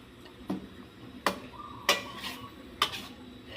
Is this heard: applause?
no